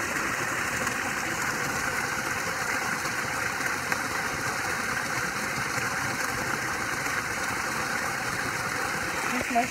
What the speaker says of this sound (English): So I'm gonna just focus on the waterfall for a minute.